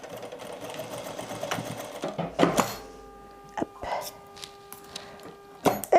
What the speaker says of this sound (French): je garde mes excès là, de fermeture à glissière, je les garde et je les couds de même